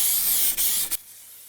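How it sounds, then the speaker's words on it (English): A spray can of paint hisses steadily onto a car, one continuous loud spray with two brief dips before it cuts off, leaving near silence. "spray it on slowly and evenly"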